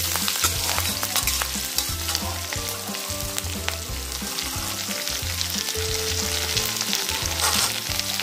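Chopped ginger and finely cut green chili stirred in a hot frying pan for samosa filling, loud continuous sizzling with regular scraping strokes of a spatula, close by and without talk.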